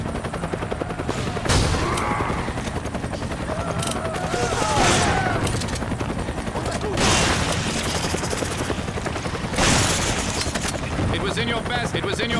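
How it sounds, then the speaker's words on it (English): Gunfire in Resident Evil 5 on a ship deck, with bursts of shots and booming blasts over a constant engine-like roar, a loud, busy battle scene from the game. "Gunfire."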